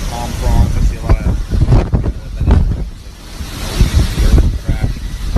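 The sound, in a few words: hurricane storm wind gusts along the water in Florida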